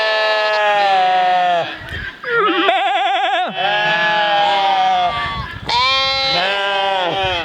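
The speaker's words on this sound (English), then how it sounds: "I think if I give my call, I think they'll probably answer me." Homestead sheep bleating loudly and close in answer to their farmer's call, several overlapping cries with a short wavering human call between them.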